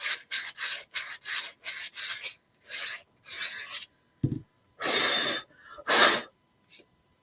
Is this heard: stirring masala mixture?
no